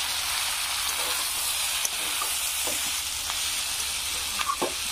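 Fish head and vegetables sizzle loudly in a pan as water is poured in, giving a steady, close, dense frying hiss with a few faint clinks and no talking.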